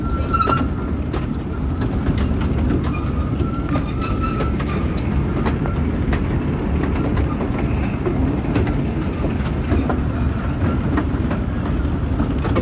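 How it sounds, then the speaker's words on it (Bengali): A small eight-car toy train runs through a forest with a continuous close rumble and clatter and faint clicks scattered over it, unbroken for the whole stretch. "এইবার টয় ট্রেনটা জঙ্গলের মধ্যে দিয়ে যাচ্ছে।"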